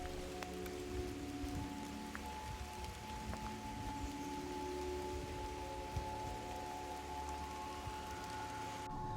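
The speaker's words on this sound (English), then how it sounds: "The rain's coming down now" Steady rain patters down on a lane sheltered by leafy trees, a constant soft hiss with scattered drops, moderately faint and continuous throughout with no voices.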